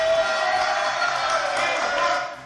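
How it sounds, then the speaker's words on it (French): Studio audience of a French comedy news show applauding and cheering for a guest, a steady, dense wash of clapping with light whoops that holds at full level before tapering off at the end. "allez, on applaudit Divine Cathy"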